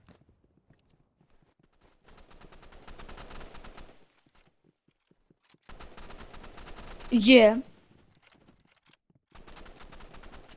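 Gunfire in the Roblox game RIVALS, rapid bursts of shots in short clusters separated by quiet gaps, with a sharp whistling sweep in the middle; a young voice speaks briefly.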